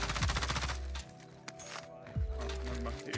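Rapid automatic gunfire from a first-person shooter, with bursts of closely spaced shots, a short pause with clinking and scattered pops, then a second burst, over a bed of game music.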